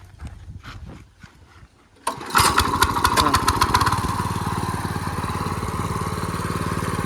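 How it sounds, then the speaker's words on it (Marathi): The engine of a farm sowing machine starts up after a quiet stretch, then settles into a loud, steady chugging idle close by; a voice talks faintly before it starts. "तर आता आपण ही मशीन चालू करू."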